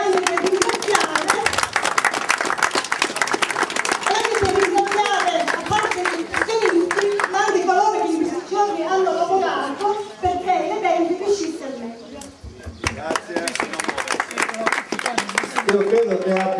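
An audience at a presentation event gives a sustained round of encouraging applause, dense clapping that continues throughout with some voices mixed in.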